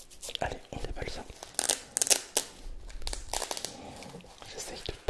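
Packaging for an Olight knife crinkles and tears up close in a quiet ASMR setting, with irregular crackling bursts and rustling and soft whispered speech in places.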